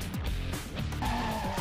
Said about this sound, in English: Your tail will slide out and you'll go into a drift.